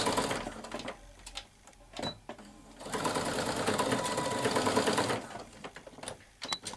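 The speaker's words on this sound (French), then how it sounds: "Donc là, je fais un point de maintien, ici. Je fais plusieurs passages." A sewing machine stitches several back-and-forth securing passes while a retro school dress is sewn, with bursts of rapid whirring stitching of varying length separated by short pauses, close and clear with no talk.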